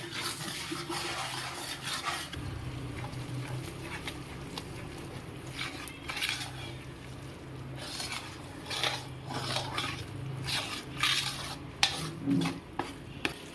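Besan (gram flour) roasting in ghee, stirred steadily with a utensil scraping the pan, giving a continuous close rasping and clinking with a low sizzle underneath.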